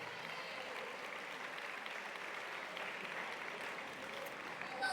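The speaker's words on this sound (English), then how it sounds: "So give your coaches a round of applause right over here." Steady, even applause from a large audience for the coaches at a high school athletic awards night, sustained and fairly distant from start to finish with little variation.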